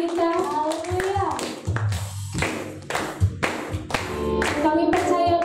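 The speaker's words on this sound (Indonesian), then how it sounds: "Boleh kasih tepuk tangan yang meriah buat Tuhan kita." A worship congregation claps for God, sharp separate hand claps and taps cutting through as voices speak and call out over them.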